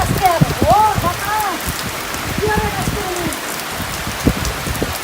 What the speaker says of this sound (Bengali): ঝড় বৃষ্টি